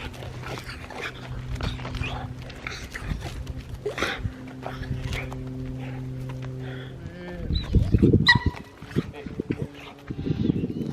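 Dog reacting on meeting another dog, giving scattered whimpers and short barks amid a steady hum, then a louder scuffling burst near the end while a person speaks softly.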